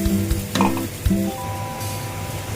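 Spice masala tipped into reddened onions frying in oil for chicken kosha, a close sizzle with a few clinks and stirring scrapes of the spoon against the pan, short and without talking.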